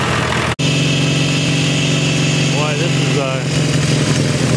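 A 340 diesel tractor chugs at a steady idle close by at an antique tractor show, a continuous loud knocking rumble briefly cut at the start, with people talking faintly over it.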